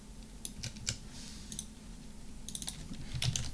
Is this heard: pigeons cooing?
no